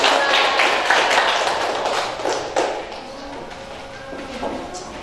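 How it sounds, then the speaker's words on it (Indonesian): Audience clapping for a student presentation group in a classroom, a dense, fairly loud patter of hands that thins out toward the end. "Tepuk tangan buat kelompok"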